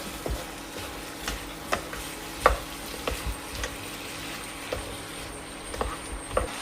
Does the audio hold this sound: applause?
no